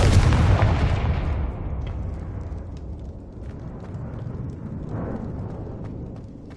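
A Confringo blasting spell exploding in the video game Hogwarts Legacy, one loud deep boom that decays into a long rumbling roar, fading gradually with faint crackles and no talk.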